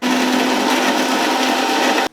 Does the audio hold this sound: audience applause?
no